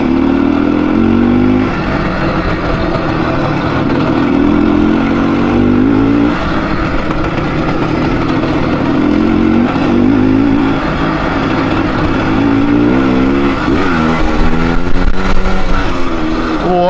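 An IZh Planeta Sport motorcycle fitted with a PWK 34 carburetor roars along continuously, its two-stroke engine loud and close, rising and falling in pitch as the rider works the throttle.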